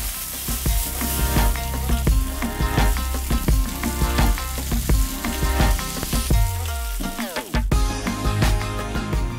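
Food frying and sizzling hard in a wok over a stove burner turned into a high-heat wok burner, with repeated stirring and tossing scrapes, a steady loud crackle throughout.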